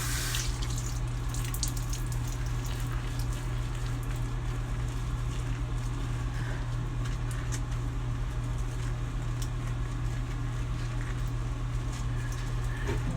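Water runs steadily from a tap into a sink to wet an olive oil exfoliating scrub, a continuous loud splashing rush with faint drips and no talk.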